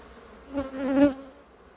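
A honeybee buzzes once near a hive, a short humming drone that swells and fades within about a second against quiet surroundings.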